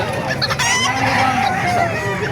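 Young hens clucking amid the bustle of a crowded poultry market in Calumpit, continuous overlapping bird calls with voices underneath.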